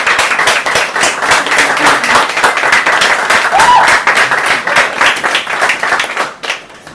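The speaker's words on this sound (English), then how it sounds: "So I think that deserves a round of applause" Open mic audience gives a round of applause, loud close clapping from a modest crowd, steady before tapering off near the end.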